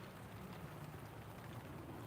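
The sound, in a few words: rain falling outside in the garden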